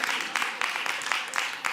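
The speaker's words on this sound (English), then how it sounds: "Yes, applaud." Audience applause at a live arts conference session, a steady wash of clapping from a crowd sustained throughout, moderately loud with individual claps standing out in the mix.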